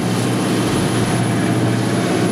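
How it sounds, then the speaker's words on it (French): Steady, loud rotor and engine drone from a military helicopter circling a warship at sea, continuous and close throughout with no talk. "on a l'hélicoptère en soutien, tu le vois là"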